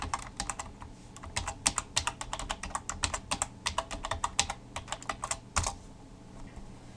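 Fingers type quickly on a computer keyboard to log into a WordPress site, a close run of crisp key clicks with brief pauses.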